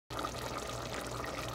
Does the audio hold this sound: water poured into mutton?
yes